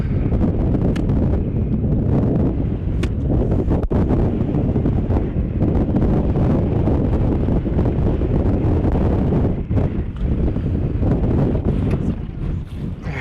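Strong wind buffets a fishing boat out on open water, a loud continuous roar and gusting rumble across the microphone with no voices.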